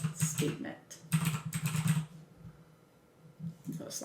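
Keys tap on a computer keyboard while Java array code is written, coming in two short quick bursts separated by a pause, close and moderately soft.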